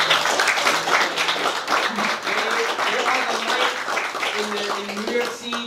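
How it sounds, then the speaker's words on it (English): Audience at a Black Raven Podcast event in New York claps continuously and fairly loudly, with voices cheering and talking through the applause. "Just want to give a round of applause for Black Raven Podcast for holding it."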